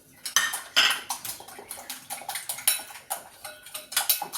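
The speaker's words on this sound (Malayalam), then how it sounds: "നന്നായിട്ട് അടിച്ചെടുക്കാം" Salted mixture with a little crushed chili being beaten in a bowl, a steady run of quick, close clinking strokes of utensil against the bowl with no talking.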